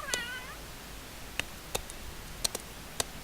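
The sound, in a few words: cat meowing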